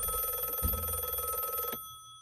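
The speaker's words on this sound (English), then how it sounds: "Oh, That was Adam's phone call." A telephone rings with a steady electronic trill that holds loud and continuous for nearly two seconds, then cuts off abruptly, leaving quiet room tone behind.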